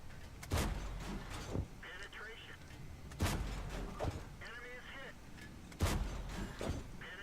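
Tank cannon fire in World of Tanks, three heavy booming shots spaced a few seconds apart, each followed by softer mechanical clatter and rumble, with faint speech-like sound in between.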